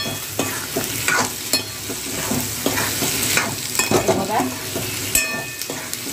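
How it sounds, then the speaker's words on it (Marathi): Raw green mango pieces frying with turmeric and salt in a pan, a steady sizzle with repeated scraping and stirring strokes throughout, close and moderately loud; a voice speaks briefly. "आणि हळद घालूया आणि छान असं कैरी त्यामध्ये घालूया. छान असं फ्राय करून घेऊया."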